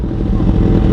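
Kawasaki Z650 motorcycle with an aftermarket exhaust revving hard at full power, a loud, dense, continuous engine roar close by with no talk over it.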